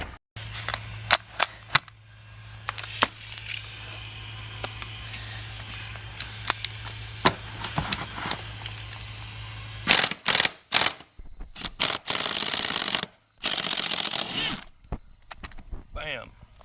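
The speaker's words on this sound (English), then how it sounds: "we'll get to the impact wrench now on this guy" An impact wrench works on bolts inside a stripped 1986 Mustang GT: bursts of sharp rattling hammering and clanks, loud and close, broken by pauses amid scattered knocks and handling noises.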